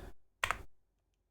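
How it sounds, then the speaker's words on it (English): Two quick keystrokes land on a computer keyboard while a command is typed for a multi-material upgrade on a Voron 2.4 3D printer. The taps are close and soft, with silence after them. "if I can learn to type"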